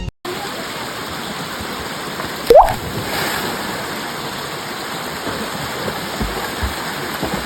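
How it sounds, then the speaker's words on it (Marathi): River water rushes steadily during a bath in the river, a constant broad wash of flowing sound with one brief knock or splash partway through and no speech. "थोड्याच वेळानंतर आम्ही सर्व गेलो नदीवर आंघोळ करण्यासाठी"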